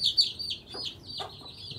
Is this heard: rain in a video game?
no